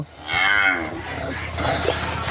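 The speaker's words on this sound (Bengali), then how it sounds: "বাচ্চারা দেখায় দেন এই গাভীটা" A dairy cow on a cattle farm lets out one loud, close, drawn-out moo that drops in pitch, followed by a shorter second lowing call.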